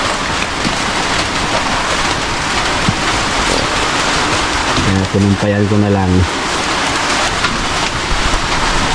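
Steady rain falls outside in a constant loud hiss, with a person speaking briefly over it midway.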